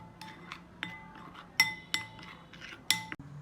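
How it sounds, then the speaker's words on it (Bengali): A frying pan is set onto a kitchen stove while bhuna baim fish is being cooked, giving a series of sharp, bright metallic clinks and taps. The sounds are close, scattered and irregular, with no talking. "চুলার উপরে ফ্রাই প্যানটা বসিয়ে দিয়েছি।"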